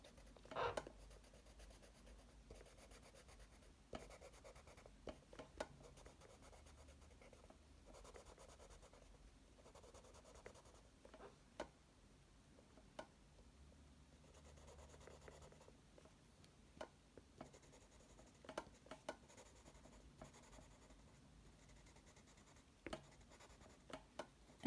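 Colored pencils scratching and rubbing across paper, soft continuous strokes broken by brief taps and pauses, close and quiet in a still room with no talking.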